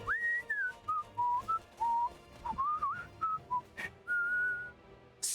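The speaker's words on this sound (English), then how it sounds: "Stop that whistling immediately." Melodic whistling from a character in the video game Star Ocean Integrity and Faithlessness, a clear wandering tune of sliding and held notes in short phrases, close and alone with faint game sounds behind.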